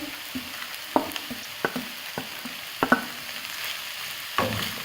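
Capsicum, carrots and cabbage for chicken chow mein are stirred in a hot pan, with a steady sizzle and a series of sharp spatula scrapes and knocks at irregular intervals, close and fairly loud, with no talking.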